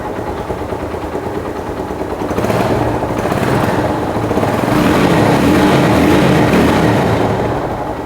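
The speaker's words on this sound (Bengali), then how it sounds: "বাইকের সাউন্ডটা আপনারা শুনতে পাচ্ছেন আশা করি" A Lifan KPR 165R motorcycle engine runs steadily nearby with a rapid, rattling exhaust beat that swells slightly in the middle and stays alone, no voices present.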